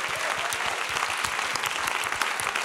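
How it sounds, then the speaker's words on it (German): A congregation at a Sunday church gathering claps in sustained, dense applause that fills the room evenly, with no voices rising above it. "Deswegen einen Applaus für jeden Einzelnen."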